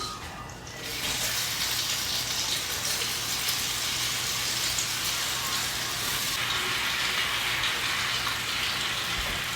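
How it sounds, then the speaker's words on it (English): Sourdough French toast slices frying in a hot pan, giving a steady, loud broadband sizzle that holds continuously throughout after a quieter first moment. "Okay, we got a little sizzle."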